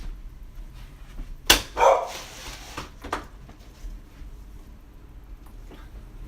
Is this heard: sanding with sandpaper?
no